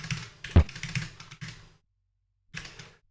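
Typing on an Amiga 500 capacitive computer keyboard while composing in a tracker: a short burst of quick, close key clicks with one sharper press, a brief silence, then a few more keystrokes.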